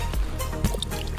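Hot, steaming water at a sulfur vent in Tinok, Ifugao trickles and drips nearby in a short, wet burst of splashes and dribbles.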